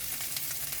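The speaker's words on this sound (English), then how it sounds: "Listen to that happy sizzle." Garlic frying in a hot pan gives a steady, bright sizzle with a fine crackling hiss, close and continuous, with no voices.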